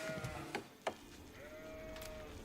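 Sheep in the Age of Empires strategy game bleat twice, drawn-out wavering calls, faint against a busy game soundscape of soft clicks and ambient effects; no talking.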